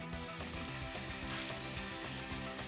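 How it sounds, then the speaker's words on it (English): Hot, crisp pan grattata breadcrumbs scattered over a hot festive dish give a dense, steady crackling sizzle, with fine rattling clicks running close and constant throughout. "I'm just gonna scatter that over the top, and it'll sizzle, listen"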